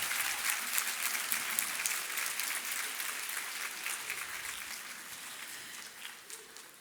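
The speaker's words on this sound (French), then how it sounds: "Et sous vos derniers applaudissements, nous pouvons tous vous féliciter." Sustained applause from a large audience at a Master's graduation ceremony in human resources management, a dense and even roar of many hands that holds steady for several seconds and eases slightly toward the end.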